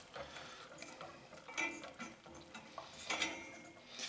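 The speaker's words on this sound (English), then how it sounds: "you want to stir this until it thickens, which it will do very quickly" Chicken stock sauce, warmed first, is stirred in a pot until it thickens, giving soft repeated scraping and swishing strokes of a utensil, fairly quiet and close with no talk.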